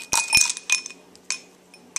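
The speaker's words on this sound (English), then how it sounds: "you're going to take a glass cup and put" A glass cup clinks as chocolate is added, several sharp ringing taps and chinks close up, uneven in spacing and sometimes overlapping, with quiet gaps between.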